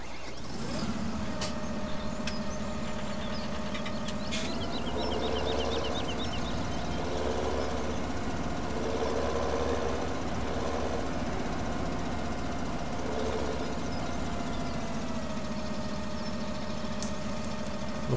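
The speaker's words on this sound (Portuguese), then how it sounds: "Vamos pegar o trator e acoplar." A Fendt tractor engine in the farming game Farming Simulator 17 drones steadily and loudly throughout, with a few sharp clicks and faint beeping near the start.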